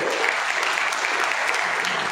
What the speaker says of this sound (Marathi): एकदा त्यांच्याबद्दल जोरदार टाळ्या वाजवा